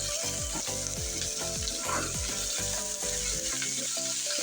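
Bitter gourd (karela) tipped into onions frying in hot oil, a steady loud sizzle with rhythmic scraping stirs throughout and a burst of spitting as the wet pieces hit the pan.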